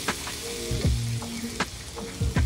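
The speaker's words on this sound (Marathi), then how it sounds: "यामध्ये आलं लसूण हिरवी मिरचीची पेस्ट केली आहे मी, ती पण छान परतून घ्यायची आहे।" Ginger, garlic and green chilli paste sautéing in hot tempering oil with asafoetida and turmeric, giving a continuous close sizzle broken by a few sharp knocks and scrapes of a spoon against the pan.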